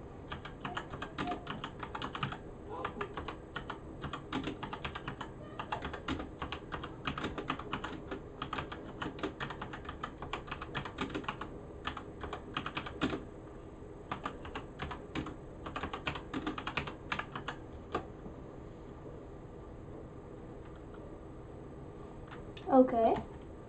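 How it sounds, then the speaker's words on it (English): Rapid typing on a computer keyboard during War Thunder B-25 gameplay, with dense key clatter that thins out toward the end and a person talking over it. "I'm gonna type in."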